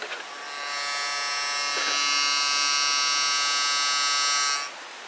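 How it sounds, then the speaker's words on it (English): An Oral-B electric toothbrush motor buzzes steadily at close range, a high vibrating whine that runs unbroken for several seconds and then cuts off. "So I'm going to turn on this toothbrush for you."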